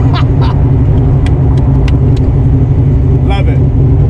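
A car fitted with Flowmaster exhaust mufflers rumbles loud and steady on the street, its low exhaust drone constant throughout with a few brief sharper pops and clicks on top.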